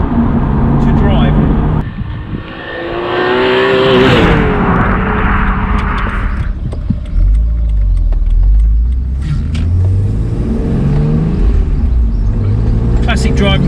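Alpina Roadster S on 19-inch alloys with ultra-low-profile tyres, its engine drone and road rumble steady and close under someone talking throughout.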